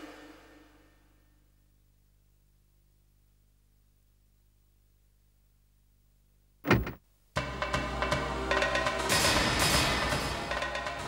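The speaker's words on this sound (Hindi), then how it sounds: "मैंने ये दरवाजा खुद बंद कर दिया" A house door swings shut with a single sharp thud after a long stretch of near silence, followed by a loud, dense wash of dramatic music or noise.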